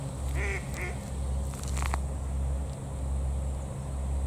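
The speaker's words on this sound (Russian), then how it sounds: "Она сказала кря-кря." A couple of short nasal duck quacks sound close by over a constant low engine-like hum, followed by a few faint scraping clicks.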